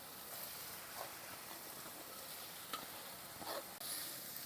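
Crumbled paneer sizzles softly in a pan with a little oil while a utensil stirs it, and a few faint scrapes rise over the steady frying hiss.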